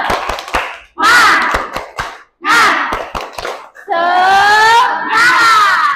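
A school class doing a tepuk semangat spirit clap chant, with sharp rhythmic handclap bursts followed by children loudly chanting together in unison.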